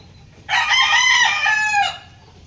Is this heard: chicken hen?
yes